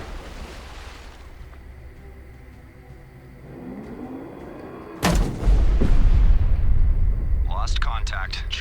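A destroyer's gun fires once in the naval video game Destroyer The U-Boat Hunter: a sudden heavy boom midway, followed by a rolling rumble. The blast sits over a bed of ocean wash and wind, with voices talking around it.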